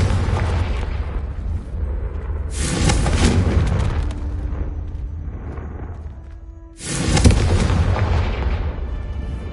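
Confringo explosive spell blasts in the video game Hogwarts Legacy on PS5: two loud, booming bursts several seconds apart, each decaying into a rumbling tail over low background noise.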